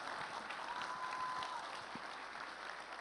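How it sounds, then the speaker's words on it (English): An audience applauds at a conference opening speech, a steady wash of clapping heard at a moderate distance with no talk over it. "give her a round of applause, please"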